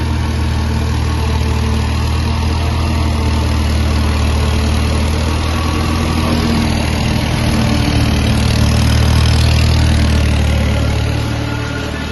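A tractor hauling a trolley of corn for silage runs close by, its diesel engine giving a loud, steady low rumble and vibrating drone that holds even throughout.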